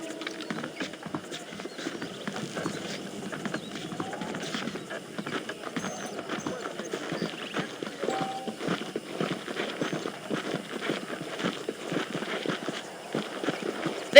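Horse hooves clip-clopping during a ride in the video game Red Dead Redemption, a continuous rapid rhythm of thuds with faint creaking tack and a brief whinny, steady and close.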